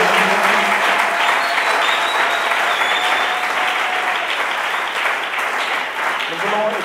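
Audience applause at a church conference in Lubumbashi, a loud sustained crowd of clapping lasting several seconds that fades only slightly toward the end.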